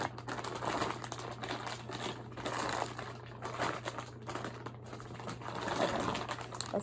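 Plastic packaging around a pair of Sennheiser HD 599 SE headphones crinkles and crackles continuously, close and moderately loud, with steady rustling bursts and a low constant hum beneath.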